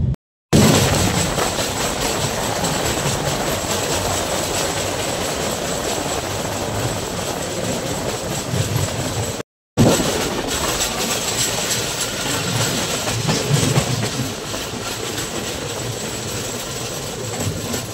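Kolkata Garib Rath Express train rolling into Jangipur Road station, a loud continuous rumble and rattle heard from inside an air-conditioned coach, steady throughout with two brief dropouts.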